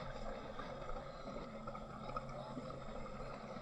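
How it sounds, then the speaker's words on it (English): A 2026 Sea-Doo personal watercraft engine idles steadily on a lake, a smooth, continuous low drone at moderate distance with no talk over it. "Ooh, what a quiet, refined engine note."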